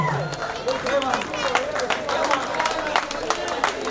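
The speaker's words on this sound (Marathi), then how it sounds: "सचिनसाठी एकदा जोरदार टाळ्या झाला." Applause for a cricket player at a local premier league prize ceremony, a steady patter of many hands clapping at moderate distance, mixed with crowd murmur and a voice speaking over it.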